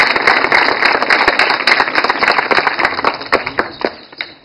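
An outdoor community gathering welcomes the interim municipal president with dense, loud applause from a crowd, many hands clapping at once and then thinning out to scattered claps as it fades.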